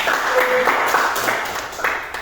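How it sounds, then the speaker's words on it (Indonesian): A classroom of students applauds a classmate, a dense patter of clapping hands that holds steady for a couple of seconds at close range. "Tepuk tangan buat Delvan."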